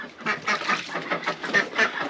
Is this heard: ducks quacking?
yes